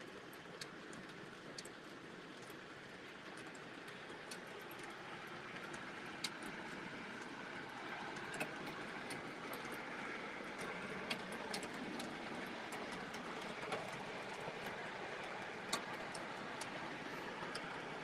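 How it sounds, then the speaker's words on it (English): MTH model train passenger cars roll along the track at a club layout, giving a steady, fairly loud rumbling clatter with scattered sharp clicks and ticks throughout, no voices. "MTH passenger cars are a little loud"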